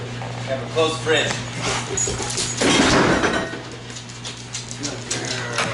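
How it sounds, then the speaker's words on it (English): A black Labrador retriever pushes a kitchen fridge door shut, a muffled thump and rattle in the middle of the stretch, with a person speaking around it and a steady hum underneath. "Kepler, close the fridge."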